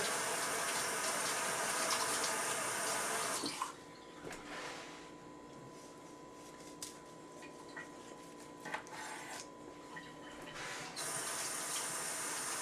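Kitchen tap running while sushi is being made, a steady hiss of flowing water that softens into quieter trickling and splashes midway, then returns to a full stream, with no talk.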